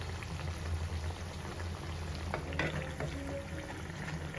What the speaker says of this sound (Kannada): ಸೊ ಇದು ಬರೀ ಹೊರಗಿನ ಬ್ಯಾಟರ್ ಏನಿದೆ ಅಷ್ಟು ಮಾತ್ರ ಫ್ರೈ ಆಗಬೇಕು